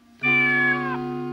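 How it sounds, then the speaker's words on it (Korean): A single clear cat meow, steady and fairly loud, held for about a second with no other sounds around it. "고양이도 해줘."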